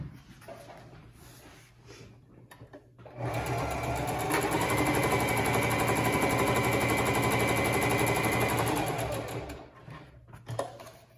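A sewing machine stitches around the corners of a fabric apron in a steady, loud mechanical whir lasting about six seconds, with quieter handling sounds before and after, close by and without speech.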